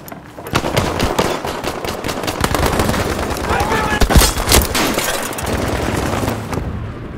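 Gunfire in the video game Battlefield 5: dense, continuous automatic rifle bursts and overlapping shots from other players, loud and close throughout with a heavier crack near the middle.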